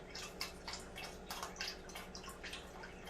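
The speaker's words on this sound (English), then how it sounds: "add chicken broth to my water." Chicken broth poured into a pot of water while cooking red beans and rice, a close, splashy trickle with scattered drips over about three seconds, no voices.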